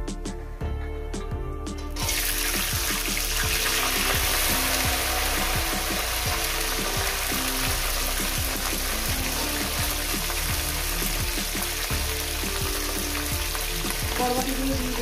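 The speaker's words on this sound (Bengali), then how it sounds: "বরবটিগুলো দিয়ে দিলাম" Yardlong beans hit hot oil in a pan: after a quieter start, a loud, constant sizzle bursts up and continues, with regular clicking and scraping from stirring.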